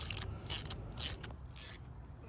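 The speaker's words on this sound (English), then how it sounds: "Pretty much just tightening these up now. Clamps." Boost pipe clamps being tightened on an MK6 GTI during a boost pipe install, four bursts of quick ratcheting clicks from a ratchet, close and fairly loud, with short pauses between them and no talking.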